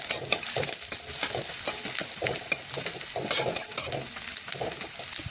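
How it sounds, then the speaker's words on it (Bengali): Onions with chopped tomato frying in a pan for a Bengali jackfruit-and-prawn dish, stirred with quick repeated scraping strokes over a soft, fairly quiet sizzle, no talking. "এখন পেঁয়াজটা আবারও নাড়াচাড়া করে নিচ্ছি।"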